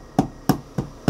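An object is banged hard against the floor four times in a steady rhythm, each strike sharp, close and loud, with no voices.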